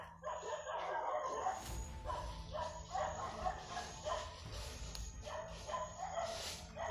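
Several dogs bark in short, repeated bursts at moderate distance, some yips mixed in, over an outdoor background.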